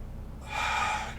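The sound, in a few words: deep breath in during yoga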